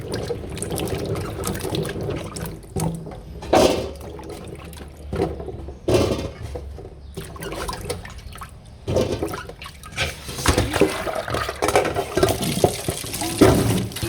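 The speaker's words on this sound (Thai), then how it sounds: "ก่อนอื่นเลยเราก็ต้องล้างลำไยให้สะอาดก่อนนะคะ" Longan fruit is washed by hand in water, giving irregular sloshing and swishing with louder splashes and trickles at intervals, close and moderately loud with no voices.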